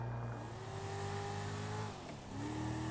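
In GTA 5, the Jester sports car's engine revs up in rising, climbing tones, dips briefly, then climbs again, close and steady with no voices over it.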